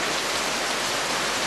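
Steady, dense hiss of a sudden rain downpour in a village, close and continuous with no voices over it.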